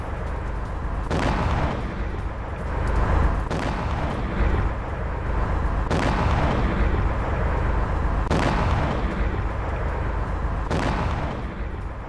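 A series of heavy, booming wartime blasts in Russian-occupied Crimea at irregular intervals, about six or seven over a constant dense rumble, sounding distant and muffled.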